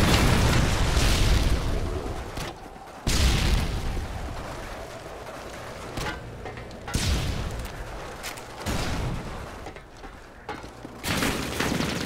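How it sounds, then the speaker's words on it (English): Explosions and heavy booms from a Predator missile strike in Call of Duty Modern Warfare 2 multiplayer on PC, several loud bursts with rumbling low-end decay spread across the clip, no talk. "Friendly Predator missile inbound."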